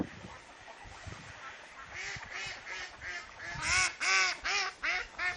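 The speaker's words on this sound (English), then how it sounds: "we think these ducks live in the pond." Ducks quack in a loud, choppy series at a pond that builds toward the end, several harsh calls close together over a soft outdoor background.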